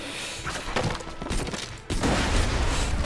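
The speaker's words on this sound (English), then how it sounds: "Good thing my pistol fires like a shotgun." A pistol that fires like a shotgun in Borderlands 2, letting off loud, close, heavy blasts in a rapid burst, pausing briefly, then another dense volley of booming shots.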